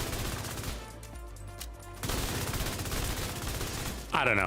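Rapid gunfire from a weapon in the video game The Division 2, sustained automatic bursts dense and loud through most of the stretch, with someone speaking briefly over it.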